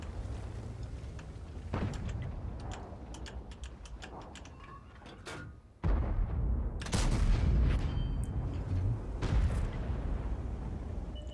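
Tank cannon shots in World of Tanks, a German-language match with a VK 45.02 A: a few sharp, loud booms with a heavy low rumble after them, then dense battle noise with repeated sharp cracks.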